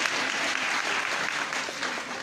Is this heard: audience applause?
yes